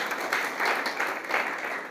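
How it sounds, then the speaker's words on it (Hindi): Brief burst of audience applause at an SC/ST all-India defence convention in India, a moderate rippling wash of clapping heard from a distance in a large gathering. "जोरदार तालियां उनके लिए"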